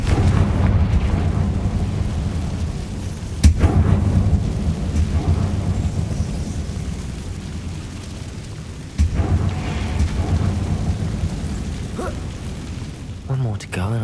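Explosive Confringo spell cast in the Hogwarts Legacy game: a deep rumbling blast with sharp cracks over a steady low roar, while a person speaks.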